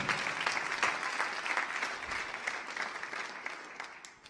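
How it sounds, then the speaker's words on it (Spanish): A church congregation applauds during a sermon, a broad, steady wash of clapping that holds for about four seconds and then fades out. "Dale un aplauso a Dios entonces."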